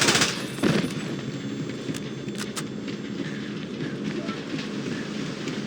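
Automatic gunfire rattles from a pursuing vessel during a high-speed chase in the James Bond 007 Blood Stone video game, sustained bursts over a loud roaring engine and rushing water, with a sharp hit early on.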